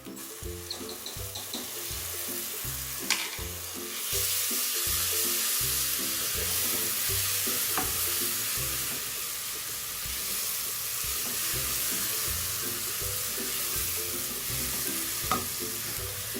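Steady sizzling of ginger garlic paste frying in a hot pan, with occasional stirring scrapes and clinks, close and continuous without talk.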